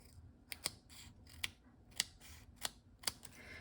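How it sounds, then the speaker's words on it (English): Scissors snip through dimensional adhesive pieces during card making, sharp crisp clicks at an irregular rhythm about every half second, close and quiet, with no voices. "now I have to cut my dimensionals. Grab my yucky scissors."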